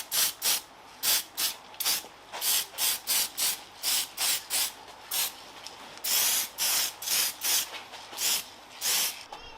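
Short bursts of aerosol spray paint hiss over turbocharger parts from a Suzuki Jimny JA22, about twenty close, even puffs in a steady rhythm with brief pauses between them.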